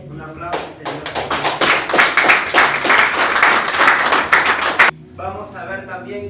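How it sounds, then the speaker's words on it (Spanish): A church congregation gives a burst of loud, dense applause during a sermon on faith. The clapping runs for several seconds, then stops abruptly, and speech follows. "Un aplauso, Señor."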